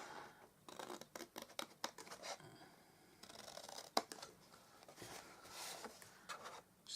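Scissors snip through card while a hamper gift box is being shaped, giving a quick run of close, crisp cuts and rustles with short pauses between them.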